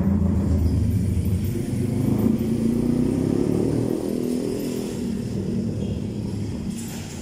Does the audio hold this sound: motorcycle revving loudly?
yes